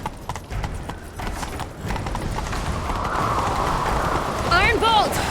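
Horse hooves galloping in The Witcher 3, a rapid, steady clip-clop rhythm close by, with a brief whinny near the end and voices talking over the hoofbeats.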